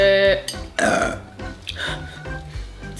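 A loud, close burp from a roommate at home rumbles on for about three seconds, rough and gurgling, with a few short bursts inside the longer belch.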